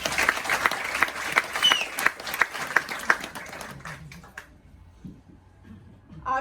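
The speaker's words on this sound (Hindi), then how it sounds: "Just give a big round of applause to yourself" An audience claps together in a quick, rhythmic burst of applause that thins out and fades to scattered claps within a few seconds.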